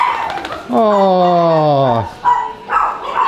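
Dogs on a farm bark and yip in a dog house with puppies inside, a long high whining howl rising over short barks close by, with a brief spoken exclamation at the start.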